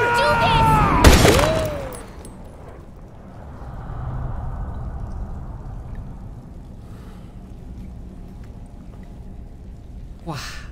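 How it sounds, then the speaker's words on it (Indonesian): A single loud, sharp gunshot bursts out in Resident Evil 6, with a brief metallic ring, then settles into a low, rumbling game ambience. "Suara tembakan tuh kenceng banget loh"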